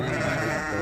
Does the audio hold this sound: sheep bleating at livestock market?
yes